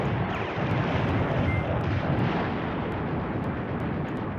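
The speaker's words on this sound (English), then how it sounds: "he's attempting to drive these units away from the bridge with artillery and shooting from far" Distant artillery fire rumbles on a battlefield in the war game Command Ops 2, with a dense, continuous wash of booming and crackling that holds steady throughout.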